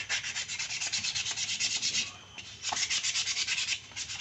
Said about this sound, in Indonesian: Jadi kalau ngamplas nih sebenarnya cukup ngambang seperti ini.